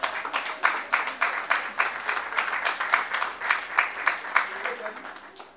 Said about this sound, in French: Applaudissez pour les témoins.